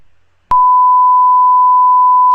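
A loud, steady censor beep at a single pitch covers a played 911 dispatch call about a cardiac arrest. It starts sharply after a brief faint lead-in and runs unbroken to the end.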